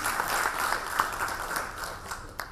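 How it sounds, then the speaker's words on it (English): Audience applause at a panel event on the future of retailing, a steady wash of clapping from a seated crowd that holds for a couple of seconds with a few sharper claps standing out near the end. "I need not say again, a louder applause, please."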